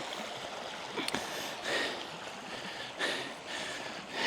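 Mountain stream near a ruined croft in the Scottish hills, flowing as a steady broadband wash of water, fairly close, with a couple of brief louder surges and no talking.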